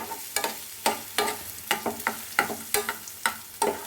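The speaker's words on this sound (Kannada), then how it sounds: "ಈರುಳ್ಳಿ ಸ್ವಲ್ಪ ಬೇಯಬೇಕು. ಸಣ್ಣ ಉರಿಗೆ ಸ್ವಲ್ಪ ಇದನ್ನು ಚೆನ್ನಾಗಿ ಬೇಯಿಸ್ಕೊಳ್ಳಿ" Onions cook in a pan over a low flame for tomato gojju, with a soft sizzle under repeated scraping strokes of a spoon stirring in a steady rhythm, close and clear.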